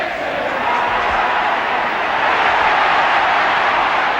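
A large stadium crowd at a 1972 English First Division football match roars and jeers steadily at the referee, a dense, continuous wall of loud noise that swells slightly toward the end.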